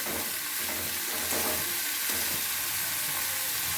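Shrimp frying together with taro stolons in a pan, a steady close sizzle with scraping stir sounds running throughout, no voices.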